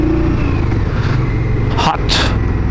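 Indian Scout 1200 motorcycle engine running loud and close, a steady low drone with a sharper rising rev burst near the end.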